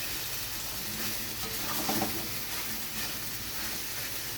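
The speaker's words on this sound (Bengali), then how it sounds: "ভেজে রাখা ফুলকপিটা আমি দিয়ে দিলাম। ফুলকপিটা দিয়ে আমি একটু নেড়ে নেব খুন্তি দিয়ে।" Fried cauliflower and chicken mince stirred with a spatula in a pan, a steady soft sizzle with faint scraping strokes throughout, no voices.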